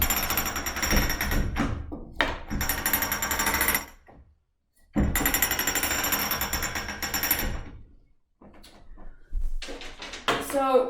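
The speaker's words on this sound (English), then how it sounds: "All right, so now I'm just going to start cranking it on." A warp is being cranked onto a loom beam, with loud clattering, ratcheting bursts in three long runs broken by short pauses and a final shorter run.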